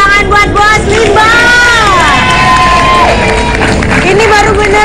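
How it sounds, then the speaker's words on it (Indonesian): Loud studio audience cheering and applause for Bos Limba on an Indonesian TV show, a dense crowd roar with shouts and whoops, overlaid by loud voices and tonal sound. "tepuk tangan buat Bos Limba"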